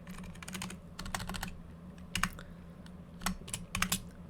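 Rapid bursts of keystrokes on a computer keyboard during coding, with irregular clusters of close, crisp clicks separated by short pauses and no talking.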